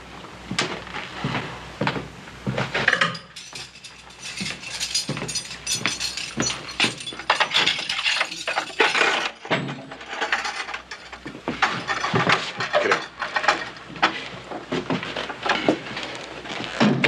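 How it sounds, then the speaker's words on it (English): Jail cell keys work a lock in an old Western, a run of quick metallic ratcheting clicks and clunks sounding steadily throughout, close and fairly loud, with a background hum and no talk over it. "Roy, get the keys, let me out of here"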